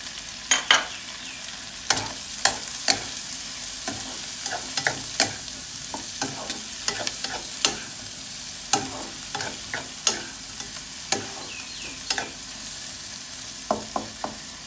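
Garlic and chopped scallions sizzle in a hot wok, with a steady fry punctuated by sharp, regular scrapes and clacks of a spatula tossing the pieces, close and clear with no talking.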